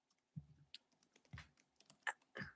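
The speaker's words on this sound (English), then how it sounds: "I hear typing." Quiet clatter of fingers on a computer keyboard, a few irregular bursts of key taps heard faintly through a call, with no talk over it.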